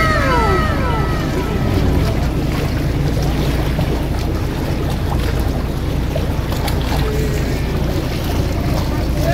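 A passenger boat backs away from the shore near Isla Verde, Batangas. Its engine churns as a low, steady rumble under constant wind and splashing water.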